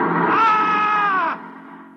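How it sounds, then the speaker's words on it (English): A man screams in a radio drama as he wakes, a loud, sustained, strained cry of about a second and a half that cuts off abruptly, leaving a quieter fading tail. "On the morning of June 15th, Guy Burkhart woke up screaming"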